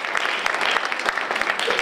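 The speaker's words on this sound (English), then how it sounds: "Give him a round of applause" An audience at a women entrepreneurs' conference applauds, a steady dense patter of many hands clapping throughout, fairly close and even in loudness.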